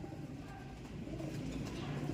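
Racing pigeons coo softly in a loft, low throaty murmurs blending together in a continuous quiet hum, close by and steady.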